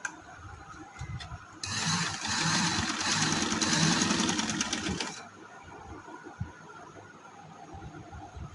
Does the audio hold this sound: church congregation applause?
no